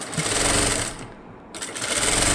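A sewing machine runs rapidly, stitching a blouse's synthetic lining cloth along its edge, a loud close mechanical whir that pauses briefly midway before resuming at full speed.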